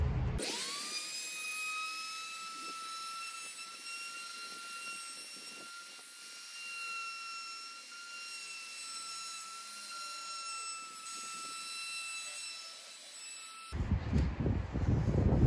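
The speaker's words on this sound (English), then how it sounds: "I have the beveling bit on there, and I'm gonna go around this with the router" A Chicago Electric router from Harbor Freight fitted with a beveling bit runs steadily as it bevels a square wooden edge, a loud, constant high whine with faint cutting chatter, ending abruptly with clattering handling sounds.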